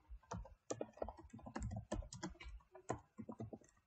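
Fingers type Java code on a computer keyboard, a rapid, close run of clicky keystrokes in quick bursts with brief pauses between, quiet and alone.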